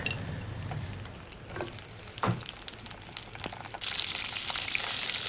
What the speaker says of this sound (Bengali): হলুদ আর লবণ দিয়ে পটল ভাজা আস্তে আস্তে হোক